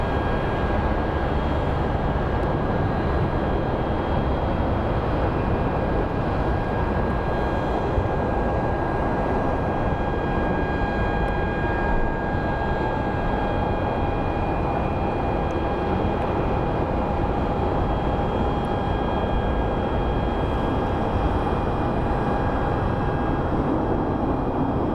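An Embraer jet at Phoenix Sky Harbor airport gives off a steady, loud engine roar with a thin high whine running through it, unbroken for the whole stretch.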